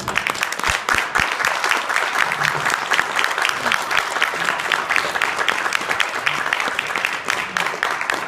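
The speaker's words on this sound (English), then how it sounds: "please give big applause for Humberto." Audience applause at a Women's Day celebration event, dense and continuous clapping from a crowd filling the room, steady and moderately close throughout with no talk over it.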